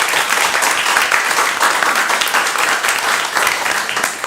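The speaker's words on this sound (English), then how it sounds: "So big round of applause for those folks too." An audience at a state board of education meeting breaks into steady applause, a dense, even wash of many hands clapping, loud and continuous with no speech over it.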